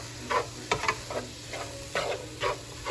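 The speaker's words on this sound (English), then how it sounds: "We're just gonna put those herbs right in there with the veggies, and we're gonna stir them around and let them cook together." Thyme and paprika stirred into vegetables cooking for a meatloaf, soft rhythmic scraping strokes of a spoon over a faint steady sizzle, close and unaccompanied by speech.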